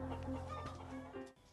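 Chickens of farm poultry breeds clucking close by in a short, quiet burst, with soft overlapping clucks and a steady background hum.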